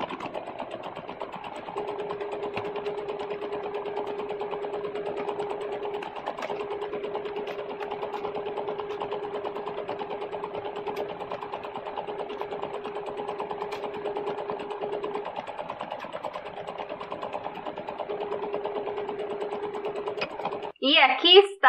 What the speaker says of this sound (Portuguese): E agora é só passar uma costurinha olhando aqui pro lado do direito